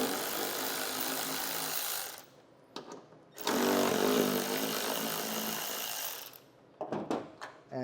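Power driver spinning out Phillips head taillight screws on a 2025 Ford Maverick with an 8 mm socket, two sustained whirring bursts close by, the second longer, separated by brief pauses and small clicks.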